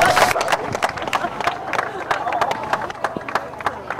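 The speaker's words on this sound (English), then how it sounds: "give them a big round of applause" A small outdoor crowd at a 10K road race claps for young race winners, light uneven applause with people talking and a voice speaking over it.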